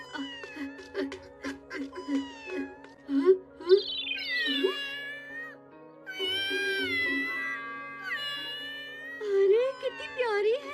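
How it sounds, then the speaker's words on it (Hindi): A small kitten in a Doraemon cartoon gives repeated high, thin meows, some short and some drawn out, between and beneath cartoon characters talking. "ये बिल्ली की आवाज कहाँ से आ रही है?"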